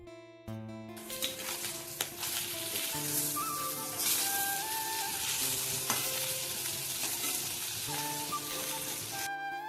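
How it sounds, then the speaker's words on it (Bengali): Fish fry one by one in hot oil in a wok, a steady crackling sizzle that runs throughout, with faint background music and occasional light clatters and no talking. "কড়াইটা গরম করে তেল দিয়ে এক এক করে মাছগুলো ভেজে নিচ্ছি"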